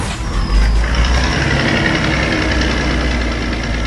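A blue tow truck in a 3D construction cartoon, a loud continuous diesel engine rumble with a short air-brake hiss near the start, holding steady throughout.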